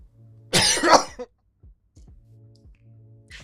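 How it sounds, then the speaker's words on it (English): One loud, harsh cough burst up close, followed by faint clicks and quiet room noise. "I'm just having like a coughing attack"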